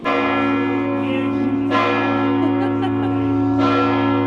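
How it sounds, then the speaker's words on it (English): Church bells of the Basilica of Saint Nicholas in Bari's historic old town ring out loud and close, rich sustained tones overlapping in a continuous peal with fresh strikes every couple of seconds. "And just like that, the bells start chiming."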